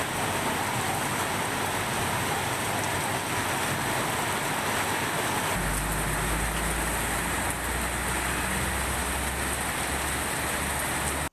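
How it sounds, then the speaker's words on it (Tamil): Heavy rain lashes down in Chennai, a constant loud wash of hiss with a deep low rumble joining halfway through and carrying on to the end. "சூறைக்காற்றுடன் கனமழை கொட்டியது"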